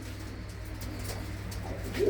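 A female pigeon in a village loft at Tangra near Amritsar gives a soft, low coo near the end, over a steady background hum.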